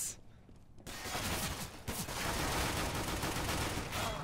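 Gunfire from the video game Counter-Strike: Global Offensive rattles in dense, loud bursts, nearly continuous after a quiet opening moment.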